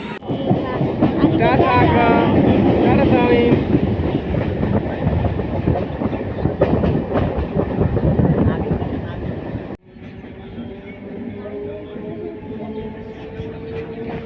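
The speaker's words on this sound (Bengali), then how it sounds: "এখন ট্রেনে চলে এসি" A passenger train runs on rails on a trip back from Kolkata, giving a steady loud rumble with clattering and wind noise, and people talk over it. The sound drops abruptly near the end to a quieter hum.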